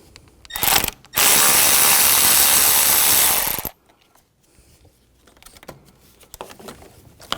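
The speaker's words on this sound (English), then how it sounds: "Now we're going to take these screws out on the side, use a T20 socket." A ratchet with a T20 socket backs out side screws on the radiator and condenser fan assembly of a 2004-2009 Audi A4, a short burst, then a loud steady ratcheting whir for about two and a half seconds, then fainter handling clicks.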